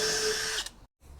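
A power drill drives a self-tapping screw through a cutting board into a truck tailgate, a close, high whirring burst that winds down and cuts off, followed by a short silence and faint low noise.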